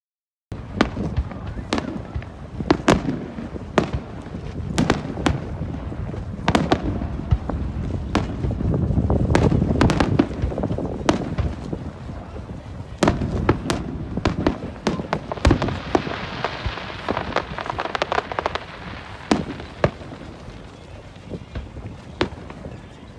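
Fireworks burst repeatedly in the distance, sharp bangs and crackles in an irregular rhythm over wind noise on the microphone.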